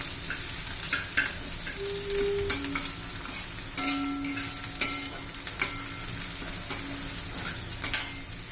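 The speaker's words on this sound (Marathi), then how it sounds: "कांदा घालू कांदा चांगला परतून घ्यायचा आहे" Chopped onion sautéing in a pan for paneer bhurji, with a steady close sizzle and repeated stirring scrapes and light utensil clinks throughout, no talking.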